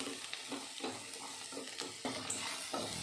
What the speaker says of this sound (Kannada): ಹುಳ್ಳಿಕಾಯಿ ಕ್ಯಾರೆಟ್ನ ಎಣ್ಣೆಯಲ್ಲಿ ಚೆನ್ನಾಗಿ ಫ್ರೈ ಮಾಡ್ಕೊಬೇಕು